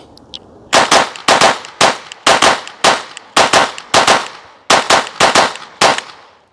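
Glock pistol shots in a doubles drill, loud sharp cracks fired in quick pairs with short pauses between each pair, about a dozen shots close by.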